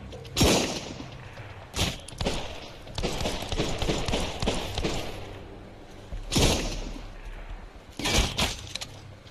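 Gunfire in the Sunkenland video game, several sharp, loud shots with hard cracks spaced unevenly, plus a busy stretch of rapid crackling bursts in between, close and prominent.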